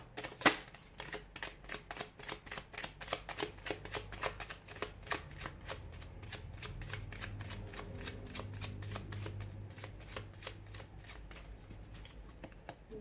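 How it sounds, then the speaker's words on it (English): Tarot cards being shuffled up close, a rapid run of crisp riffling flicks that blur into a dense flutter, fairly quiet with no voices. "give the cards a shuffle"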